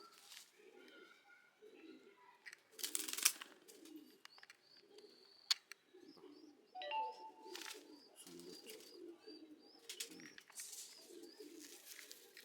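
Madrasi pigeons coo in low, repeated pulses through the clip, with brief chirps and higher bird calls above, and a burst of louder noise near the start; a few faint voices sound in the background.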